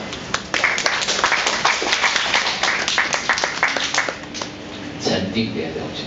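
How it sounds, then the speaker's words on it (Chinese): Classroom audience at an English cram school ceremony clapping for a student, a burst of dense, close hand claps that carries on for several seconds before fading, with voices mixed in. "掌声鼓励一下"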